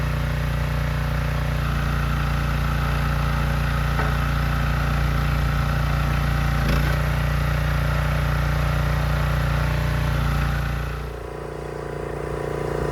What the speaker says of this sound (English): So very blessed to have the tractor.